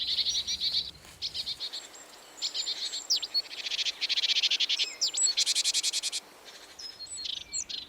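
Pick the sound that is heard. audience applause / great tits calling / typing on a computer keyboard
great tits calling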